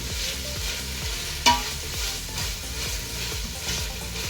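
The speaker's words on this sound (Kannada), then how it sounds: "ಪುದೀನ ಮಾತ್ರ ಹಾಕ್ತಾ ಇದ್ದೀನಿ. ಒಂದ್ಸರಿ ಮಿಕ್ಸ್ ಮಾಡ್ಕೊಳ್ಳೋಣ." Mint is stirred into chicken biryani in a pan, producing regular scraping strokes over a soft sizzle, with one sharp clink of the spoon against the pan.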